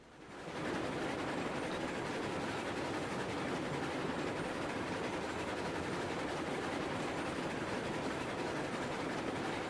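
Steady, dense rumble and rolling clatter of a train running in the railroad game Railroads Online, continuous and fairly even after a quick fade-in, with no talk over it.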